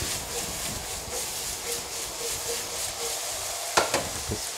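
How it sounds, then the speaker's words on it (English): Onions sizzling in a pan being shaken, a soft, low-level frying hiss with faint scraping, then a few sharper clanks and rattles near the end. "Give the onions a little shake."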